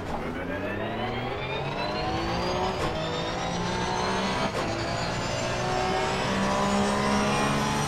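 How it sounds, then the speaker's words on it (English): A car without a rear wing, running a very open diff, takes a corner in fourth gear at around 130 to 140 mph. The engine holds a loud, steady high-revving whine with harmonics that climb slowly throughout, and no one speaks. "I'm going to hit that corner in fourth gear at just under 140 miles per hour"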